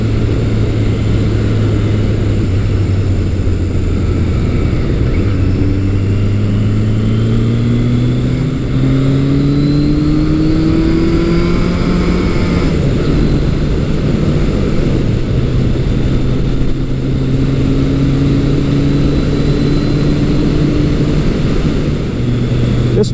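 A classic Kawasaki KZ1000 motorcycle engine while riding, a loud, continuous rumbling drone that rises in pitch through the gears, drops on shifts and climbs again, with constant wind noise throughout.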